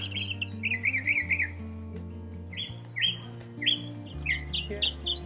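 Several birds at a desert nature preserve in Las Vegas call in short squawking and chirping phrases, close and clear, over a low steady hum.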